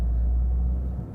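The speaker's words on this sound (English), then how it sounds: "So right now I'm caught in traffic jam" A Toyota GR Corolla creeping along in a traffic jam, its low steady engine rumble and road drone filling the cabin at a constant level with no talking.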